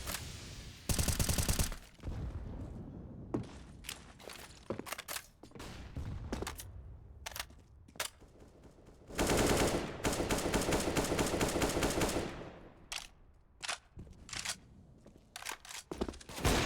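Rapid bursts of rifle gunfire from a Counter-Strike match ring out loud and close, mixing sustained automatic volleys with sharp single shots spread throughout.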